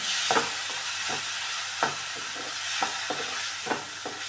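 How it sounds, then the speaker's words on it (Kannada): Soft, hissing sizzle of coriander leaf chutney frying in a pan, with a spoon scraping and stirring in short, repeated strokes. "ಚೆನ್ನಾಗಿ ಇದನ್ನು ಫ್ರೈ ಮಾಡಿಬಿಟ್ರೆ ಸೂಪರಾಗಿರುತ್ತೆ ಇದು"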